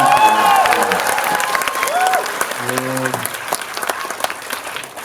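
An audience in Megabox COEX Theater 7 applauds during a Korean film talk for the movie 'Reservoir Game', with steady, dense clapping throughout and a voice speaking over it.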